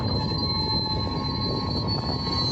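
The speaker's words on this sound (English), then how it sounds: "A few cars are forced to veer out of the way as the train roars by." A train rumbles steadily past at close range beside a road, wheels squealing on the rails with a constant high-pitched screech over a heavy roar.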